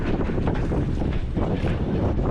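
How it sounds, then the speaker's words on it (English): Strong crosswind at a boat dock buffets the microphone in a constant low rumble with gusting surges, loud and close, no talking. "Ooh, super windy."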